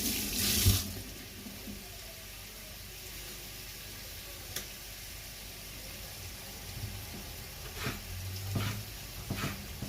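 Tap water runs steadily into a kitchen sink while vegetables are washed, a quiet continuous splashing with a few louder clatters and bumps of handling.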